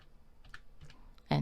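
Computer keyboard typing while entering an accounting entry, a few soft, sparse keystrokes followed by a louder burst of clacks at the end; quiet room, no talking.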